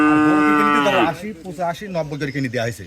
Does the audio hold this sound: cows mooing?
yes